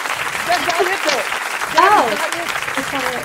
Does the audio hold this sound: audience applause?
yes